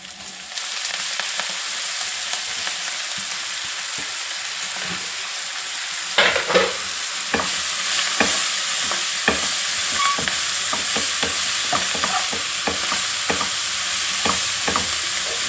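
Chopped fenugreek leaves and tomato curry sizzle steadily in a pan over a turmeric-spiced tempering, with repeated scraping and stirring knocks of a spoon growing busier midway.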